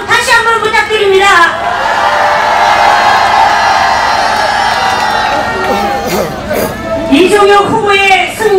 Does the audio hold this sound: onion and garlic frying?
no